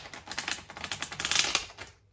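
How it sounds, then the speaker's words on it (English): A deck of playing cards rides through a waterfall shuffle, giving a rapid close fluttering riffle of crisp clicks that builds for about two seconds and then stops abruptly. "So, you gave the cards a shuffle like that."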